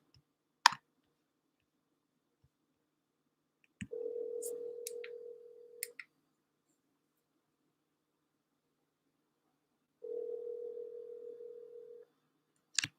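An outgoing phone call rings on the line before going to voicemail: two long, steady ringback tones a few seconds apart with near silence between, plus a few faint clicks.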